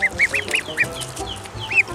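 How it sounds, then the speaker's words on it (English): Several high chirps in a quick irregular series, close and fairly clear, from chicks calling in a backyard flock with low background noise. "The chicks are over there chirping like,"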